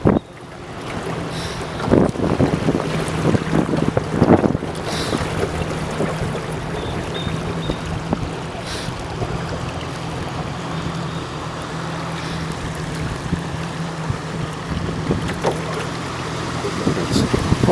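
A motorboat runs steadily on the Yukon River through Miles Canyon, its low engine drone constant beneath heavy wind buffeting the microphone and water rushing past the hull, with no voices.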